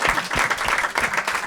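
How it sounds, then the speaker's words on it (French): An audience applauding on a French talk show, a dense burst of clapping from many hands, close and steady throughout. "On applaudit Younes"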